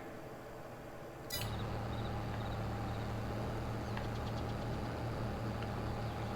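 A tractor engine in Farming Simulator 22 idles and then rises to a steady, loud drone as it labors slowly up a hill, with a sharp click just before the engine swells.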